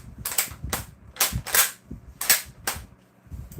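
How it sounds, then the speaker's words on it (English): Mosin Nagant 1943 bolt-action rifle firing: six sharp, cracking reports spaced unevenly over a few seconds, close and loud, with low mechanical thumps and clatter between shots and no voices. "That sound effect was a Mosin Nagant"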